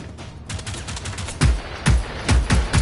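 Rapid bursts of gunfire from the video game Generation Zero, several sharp loud shots cracking close by in quick irregular succession, with no voices over them.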